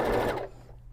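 Sewing machine back-stitching a seam on a one-piece, unlined tote bag: a loud, fast mechanical whir that fades within half a second, leaving a low motor hum.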